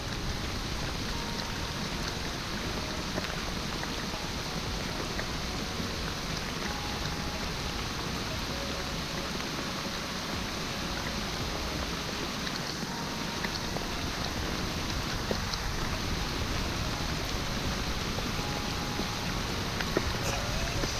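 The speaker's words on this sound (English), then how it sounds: "Some heavy ass rain." Heavy downpour of big raindrops during a spring bass fishing trip, a steady dense hiss and patter that holds at full strength for the whole stretch with no letup.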